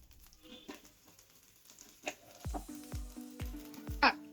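Butter sizzles on a dosa pan, a soft, close crackling hiss broken by a few sharp clicks and taps near the end.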